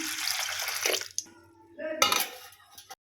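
Water is poured into a bowl of washed food to soak it, a close splashing pour with clinks of the vessel, then a brief pause before a second louder gush and a trailing drip.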